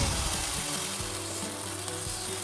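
Millet dosa batter, beaten with only salt and made thicker than ordinary dosa, fries in a pan with a steady broadband sizzle that stays close and constant throughout, with faint low stirring thumps underneath and no voices.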